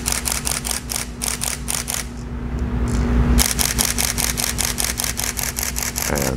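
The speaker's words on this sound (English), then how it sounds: "I switch it to my high speed continuous shooting" A Nikon D5500 fires in high-speed continuous mode: rapid, evenly spaced shutter clicks in a burst, a short gap, then another long burst of crisp, close clacks.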